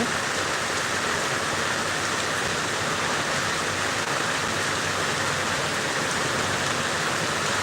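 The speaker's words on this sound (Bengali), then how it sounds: "এখন শুধু মুসুলধারে বৃষ্টি হয়ে যাচ্ছে বৃষ্টি পড়ছে" Torrential rain follows a spell of gusty wind in Bagatipara, drumming down in a loud, unbroken roar that holds steady throughout.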